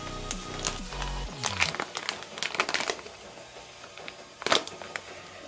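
Packet of dried mint being torn open and handled at home, crinkly plastic rustling in close bursts, with a louder crackle near the end and no talk.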